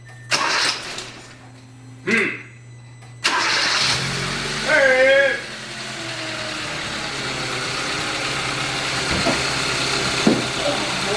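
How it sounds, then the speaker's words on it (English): A 2015 Hyundai Accent engine cranks over and catches, then settles into a steady idle that runs on, with a few brief knocks and shuffles nearby. "Now we're gonna start up the engine, get it all running through the system"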